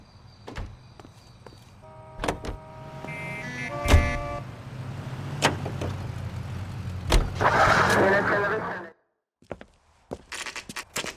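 A car drives in the video game L.A. Noire. A steady engine hum runs under clunks, door sounds and tonal mechanical noises, then cuts briefly to near silence before sharp clicks return.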